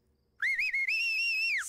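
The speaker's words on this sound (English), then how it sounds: "Still can't do the whistle?" A person whistles a clear, sustained tone with a wavering start and a brief break, then holds a long steady note before it fades out.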